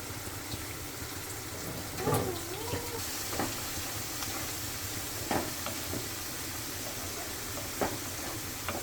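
Chicken skin with garlic frying in oil in a pan, a constant low sizzle with occasional scraping stirs and clinks of a spoon, steady and close.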